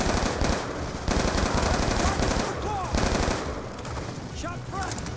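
Rapid automatic gunfire in the video game Call of Duty: Black Ops 2 during a combat mission, dense bursts of loud shots filling the scene with brief pauses.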